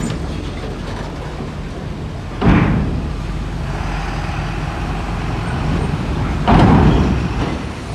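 A Volvo truck carrying factory equipment rolls past on a road near Bakauheni port with a loud, steady rumbling roar and two heavier surges as it goes by, close to the listener.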